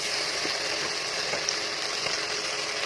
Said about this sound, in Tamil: நான் இஞ்சி பூண்டு பேஸ்ட் போட்டுக்கிறேன்